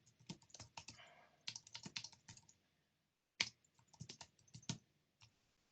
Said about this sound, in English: I'm just going to type in there.